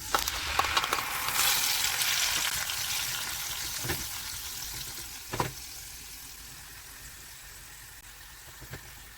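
Spicy Indonesian-style sauce cooking in oil in a pan gives a soft, steady sizzle that fades gradually, broken by a few brief stirring scrapes; no voices are heard.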